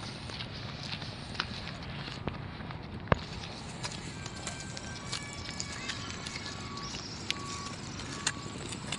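Busy roadside traffic near a dam, with vehicles passing, scattered clicks and knocks, faint footsteps, and a high reversing beep from a truck repeating in the background under continuous road noise.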